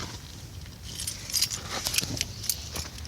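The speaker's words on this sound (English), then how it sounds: "keys on the ground." A bunch of keys jangles and clinks as it drops onto the ground nearby, followed by a few lighter rattles.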